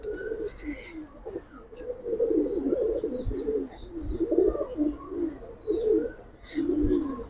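Giribaz and coloured pigeons coo steadily in low, throaty rolling phrases at a pigeon market, a near and continuous flock sound with a few faint chirps above.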